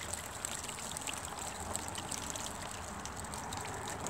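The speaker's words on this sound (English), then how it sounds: "we pour this water into here," Water poured into a gravel tray beneath a containerised fruit tree, a soft steady trickle and splash running evenly throughout, fairly quiet and close, with no talk.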